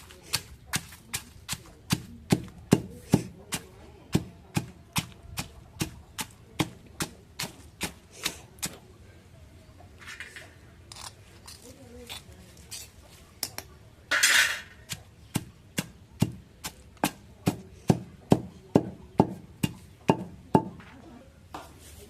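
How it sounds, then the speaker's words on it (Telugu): Gongura leaves being pounded in a stone mortar, with steady rhythmic thuds and knocks that pause briefly midway and then pick up the regular beat again, close by and with no talk. "చిన్నగా ఇలా దంచుకుంటే పైన పడకుండా ఉంటుంది"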